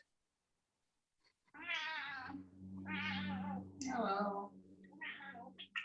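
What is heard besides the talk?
cat meowing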